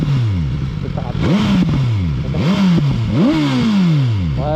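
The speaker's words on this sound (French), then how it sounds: "on va écouter un petit peu le pot d'échappement là." A BMW S1000R motorcycle revs hard through its exhaust in a loud, close series of rising and falling blips, about five throttle surges in quick succession.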